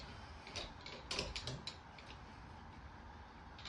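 Wheel nuts being hand-tightened onto the studs during a car wheel change, heard as faint metallic ratcheting clicks and small rattles over steady background noise, with no talk.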